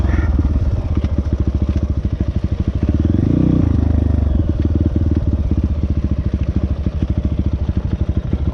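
A restricted ERZ 450SX dirt bike engine revs loudly up close, rattling and sputtering with a rough, choppy rhythm that swells in the middle before settling.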